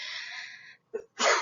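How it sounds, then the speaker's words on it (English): A single sharp sneeze bursts out near the end, loud and close, after a stretch of steady voiced sound and a brief pause. "Bless you, spouse."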